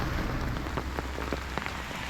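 Heavy rain falls steadily on the road to Lepchajagat near Darjeeling, a dense, close hiss with scattered louder drop impacts and a low rumble underneath.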